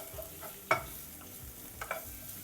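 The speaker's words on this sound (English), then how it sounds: "Put in a suitable amount of oil. I'm using medium heat now. Add in 3 pieces of shallots, chop up. Move them around first." Chopped shallots sizzle in oil in a pan over medium heat, a steady soft frying hiss broken by a few sharp clinks and scrapes as they are stirred, with no talking.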